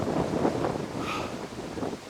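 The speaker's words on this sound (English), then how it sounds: "It's that bloody windy up here" Strong wind buffets the microphone on a hilltop during a bike ride, a continuous low rumbling roar with gusty swells, close and loud, with no voices.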